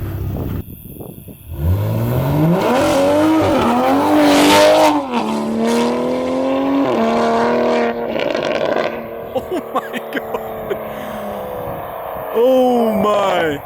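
A Toyota Supra pulls hard at full throttle from first through third gear, the engine note rising in loud sweeping revs with shifts between them, then easing off as it slows; voices talk over the roar.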